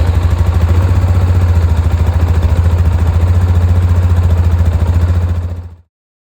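A Polaris Sportsman ATV engine, 550 or 850, idles right after an oil change: a loud, close, steady low chugging throb with even pulses that holds for several seconds and then cuts off abruptly into silence.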